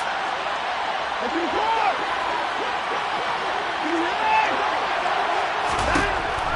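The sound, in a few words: stadium crowd cheering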